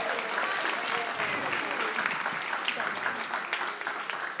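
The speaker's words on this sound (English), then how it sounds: "Can I get a round of applause for our brave soul?" An audience at a Celebration of Nations cultural event bursts into sustained applause, dense clapping throughout, with a voice briefly heard over it as a contestant comes to the stage.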